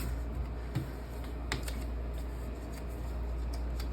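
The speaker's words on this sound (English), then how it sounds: "Press that down and smooth it all around." Hand pressing and smoothing a sheet of copy paper down onto a gelli printing plate, giving a soft continuous rustle and brushing with a few light taps, close by and fairly quiet.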